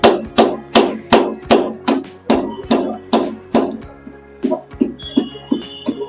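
Steady pounding of dry ginger (sunth) in a mortar, about a dozen hard, near thuds in an even rhythm, slowing into softer, uneven strikes near the end, with no talking.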